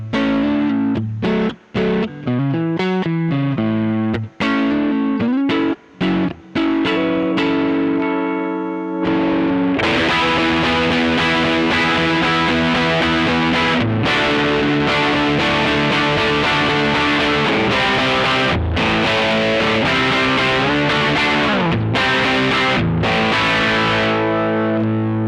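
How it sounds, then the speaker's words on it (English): Fender 60th Anniversary American Standard Stratocaster played through a distortion pedal, starting with choppy, separated chords and notes, then breaking into loud, sustained, heavily overdriven strumming that runs continuously to the end. "that's just using the pickups on the guitar, distortion pedal on"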